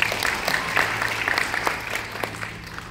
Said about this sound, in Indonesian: Beri tepuk tangan bagi saya.